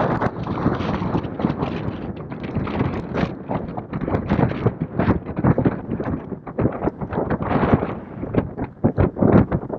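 Strong wind buffets the microphone at an Aconcagua expedition camp among climbers' tents, a loud continuous roaring rumble with gusty surges throughout and no voices.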